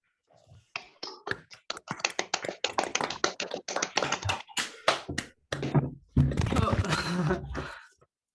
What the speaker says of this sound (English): Let's unmute ourselves and give a round of applause.